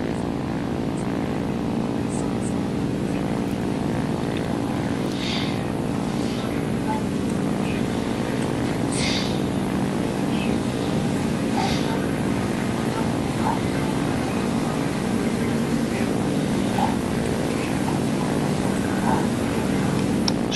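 A constant, droning hum of a Pe-2 bomber's propeller engines in a video game runs steadily for the whole stretch, with faint brief voice-like chirps scattered above it.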